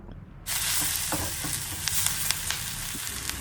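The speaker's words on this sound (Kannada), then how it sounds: "ಫ್ರೈ ಆಗಿರೋವಂಥ ಈರುಳ್ಳಿ ಮತ್ತು ಮೆಣಸಿನ್ಕಾಯಿನ ಸಪ್ರೇಟಾಗಿ ಒಂದು ತಟ್ಟೆಗೆ ತೆಗೆದುಬಿಡಿ" Onion and green chillies frying in a pan. After a short quiet moment, a loud, dense sizzle bursts in and continues steadily up close, with occasional light crackles and no speech.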